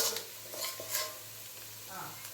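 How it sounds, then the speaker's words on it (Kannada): Onions frying in oil in a pan, a steady close sizzle broken by a few quick stirring scrapes, fairly quiet overall and with no voices. "ಈರುಳ್ಳಿ ಚೆನ್ನಾಗಿ ಫ್ರೈ ಆಗಿದೆ."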